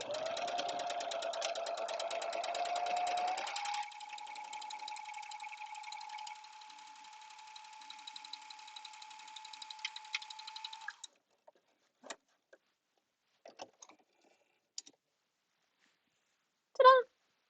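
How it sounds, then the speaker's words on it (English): A sewing machine stitches a standard 5/8 inch seam in bright red-orange thread for cosplay work, running in a steady close whir for about eleven seconds before stopping, followed by a few faint clicks and a short final sound. "So I'm just gonna sew a standard 5/8 inch seam."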